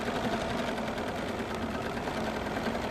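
A sewing machine stitches steadily during free motion quilting at a moderate, unhurried pace, with a continuous close mechanical whir and no talk.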